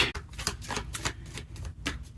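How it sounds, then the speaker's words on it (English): Deck of tarot cards being shuffled up close, a quick run of crisp riffling bursts and soft taps in an uneven rhythm, with no talk. "If the shuffling is annoying, I totally understand"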